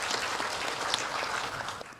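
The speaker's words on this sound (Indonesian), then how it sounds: "Tepuk tangan." Audience applause at a political speech, a steady dense patter of many hands clapping throughout, moderately close with no talk over it.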